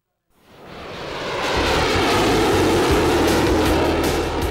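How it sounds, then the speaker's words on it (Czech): Jet engines of a British Tornado F3 fighter roar over an airfield at an air show, rising from silence into a loud, sustained broadband rumble that swells and holds steady, with no talk. "Nad letištěm opět burácejí proudové motory. Tentokrát sledujeme stíhací letoun Tornado F3 z Velké Británie."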